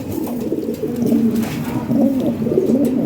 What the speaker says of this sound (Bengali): অনেক কবুতর আছে ভাই ভালো ভালো কবুতর আছে